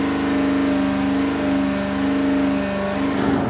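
Engine held at a steady 3,000 RPM on a dyno during a connecting-rod comparison test, a loud, continuous, even drone with no pauses and no talking.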